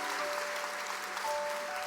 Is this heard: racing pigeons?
no